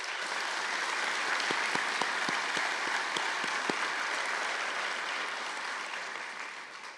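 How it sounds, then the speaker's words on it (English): A university convocation audience applauds the committee members with a dense, sustained clapping that fills the hall, tapering off slightly toward the end, with a few sharper individual claps standing out early on. "Please give a round of applause to the members of the committee in recognition of their hard work."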